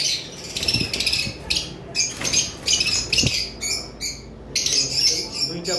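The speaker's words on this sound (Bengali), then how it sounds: "এখানে একটা নতুন ফিশার রেড আই এবং একটা গ্রিন ফিশার অফলাইন রয়েছে" Fischer's lovebirds, a red-eye and a green opaline, chirp and tweet in bursts close by, a busy twittering that starts and stops, with occasional soft wing flutters and a faint voice in the background.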